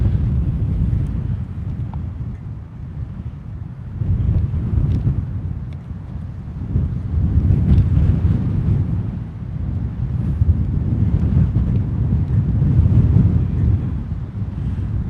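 Strong, cold wind gusts of around 28 mph batter the microphone at the Duluth, Minnesota harbor, producing a loud, buffeting low roar that surges and eases in irregular waves throughout.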